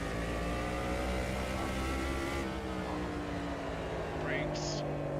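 Race car in a racing video game, its engine droning loudly through a gear change with rising and falling pitch, a steady mechanical hum throughout and a brief high squeal near the end.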